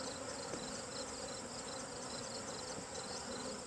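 A steady, dense drone of honey bees fills the air around an open hive during an inspection, a continuous close buzz with no voices.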